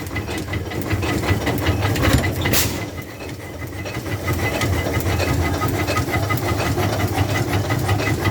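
A 1911 International 20hp tractor engine runs steadily and loudly nearby, a continuous rumbling chug with hissing, and a brief sharp burst of noise partway through.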